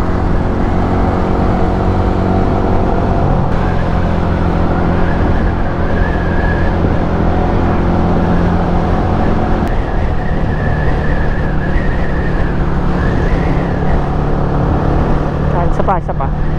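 A Bajaj NS200 motorcycle accelerating hard in an 800-meter race against a Yamaha R15 v3, heard as a loud, steady engine drone with shifting pitch and constant wind rush that never lets up.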